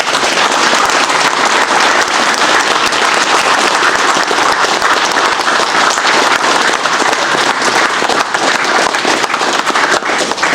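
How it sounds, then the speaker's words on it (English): Dense, loud applause from a seminar audience at a black belt promotion runs steadily throughout without a break. "So we'll give him a round of applause."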